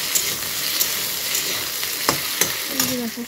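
Onion and spice paste frying in a pan, a steady close sizzle broken by a few sharp stirring scrapes and clicks.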